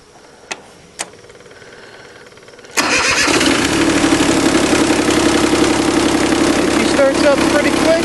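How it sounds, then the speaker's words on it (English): A Cub Cadet 1512 diesel tractor, already warm, sits quiet with a couple of clicks, then cranks and fires abruptly into a loud, steady diesel idle that runs close and continuous to the end. "I've been using this Cub Cadet 1512 diesel for a little while, and now we're going to do a warm start on it."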